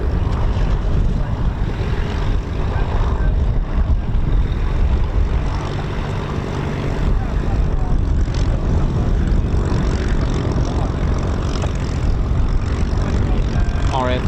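A Battle of Britain Memorial Flight Spitfire or Hurricane, a WWII piston-engined propeller fighter, roars loudly and steadily overhead at an RAF Coningsby air display, with a constant engine drone and crowd noise beneath.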